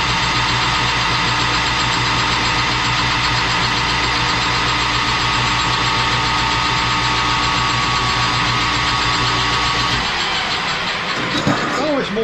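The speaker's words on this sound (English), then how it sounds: "there's your good facing cut in the lathe" A metal lathe runs with a steady mechanical whine and hum while facing a fence part, the drone holding loud and even for about ten seconds before cutting off into quieter clatter.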